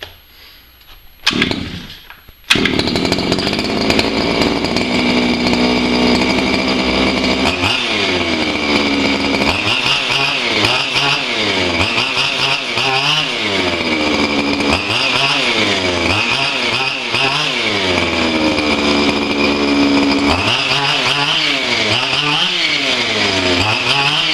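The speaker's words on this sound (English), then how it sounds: "So it sounded like it was bogging out right there because the engine still wasn't warmed up." A Baja engine catches after a couple of brief pulls and then runs loudly and steadily, its pitch sagging and recovering in repeated dips as it bogs down while still cold.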